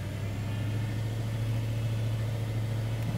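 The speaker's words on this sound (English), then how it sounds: "Let me give it a little gas. There's something going on with cylinder one." Land Rover LR3 engine idling rough with an intermittent misfire on cylinders one and two, a steady low drone heard close up and alone with no clear rev rise.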